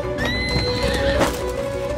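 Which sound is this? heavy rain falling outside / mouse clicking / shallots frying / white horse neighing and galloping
white horse neighing and galloping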